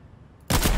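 Gunfire in the Fortnite video game bursts in abruptly after a quiet moment, a loud, dense blast of shots that continues to the end of the brief clip.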